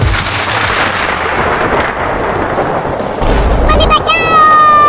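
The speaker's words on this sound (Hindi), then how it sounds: "देखो कितना बादल गरज रहा है" Thunder rumbles and booms loudly through heavy rain in a village, a dense roaring wash that swells, with a sharper crack and bright high tones breaking in near the end.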